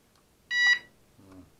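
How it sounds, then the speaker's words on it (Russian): A single short electronic beep from a fishing bite alarm, bright and high-pitched, followed by a faint lower buzz a moment later. "Пищит, значит, устройство рабочее."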